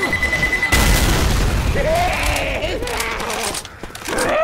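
A pipe bomb going off in Left 4 Dead 2, a sudden loud boom under a steady high beeping, followed by a rolling rumble, scattered game noise and groaning zombie-like cries.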